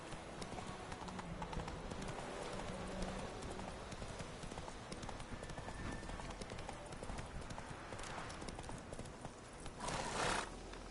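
Hooves of Roach, Geralt's horse in The Witcher 3: Wild Hunt, clip-clop in a steady trotting rhythm through the game world, with a brief whinny and a louder burst of rustling near the end.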